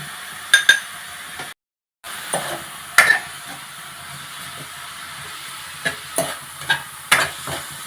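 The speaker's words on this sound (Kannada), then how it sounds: "ಚೆನ್ನಾಗಿ ಈ ಥರ ತಿರುಗಿಸ್ಕೋಬೇಕು" Vegetables fry in a pan while being stirred, with a steady sizzle broken by a run of clinks and scrapes from the spoon against the pan. A brief silent gap comes early.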